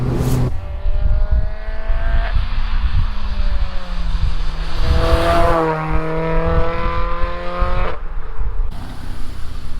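A road-legal Renault Clio rally car engine revving hard through its range, loud and close, rising and falling pitch with gear changes and a sharp lift-off near the end.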